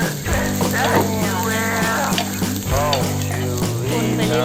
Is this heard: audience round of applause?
no